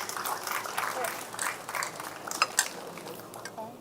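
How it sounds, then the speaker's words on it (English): Scattered, fairly faint clapping comes from a crowd at a charity event for Africa, arriving in uneven bursts with a few sharper claps standing out. "So give her a round of applause again, please,"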